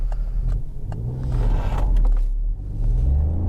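Peugeot 2008 with a 100 hp 1.2 turbo engine pulling under full throttle, heard from inside the cabin as a steady, close engine drone that swells slightly as it accelerates.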